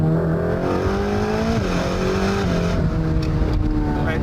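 A fast car's engine drones loudly and continuously, its pitch sliding down and back up as it shifts and accelerates, with a hint of tyre noise near the end.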